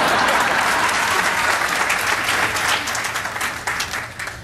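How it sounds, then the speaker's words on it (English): Audience at a hospital groundbreaking breaks into a dense burst of applause, loud at first and then gradually thinning and fading over a few seconds. "It's okay to clap."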